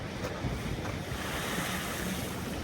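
Lake waves wash steadily against icy rocks in a broad, continuous roar of surf, with wind buffeting the microphone throughout and no distinct individual breakers.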